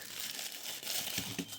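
Tissue paper wrapping from a Matchbox 2025 Polaris RZR Pro R4 Sport die-cast toy crinkles close by. The rustling is soft and continuous with a few sharper crackles.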